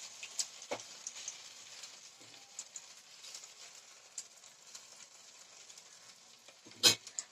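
Vadas made from leftover poha fry in hot oil, a soft steady sizzle with light clinks and taps of a utensil, plus one louder clatter near the end.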